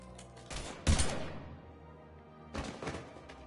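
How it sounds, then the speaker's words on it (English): Gunfire in the video game Mass Effect 3, a couple of short loud bursts of shots separated by a lull with a decaying echo, no talking. "Now open fire!"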